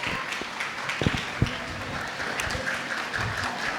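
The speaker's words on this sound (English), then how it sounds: "Give a huge round of applause for Divyanshu." Applause at a school award ceremony, a moderate patter of clapping from a gathered audience with a few sharper individual claps standing out, heard without talk.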